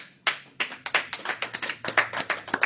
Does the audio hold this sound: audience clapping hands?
yes